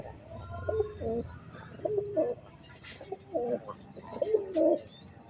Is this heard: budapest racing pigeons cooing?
yes